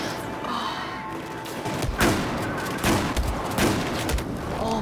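Heavy in-game gunfire from Battlefield 4, with several loud shotgun-like blasts around the middle and end over a dense, busy battle bed; a faint voice mutters underneath.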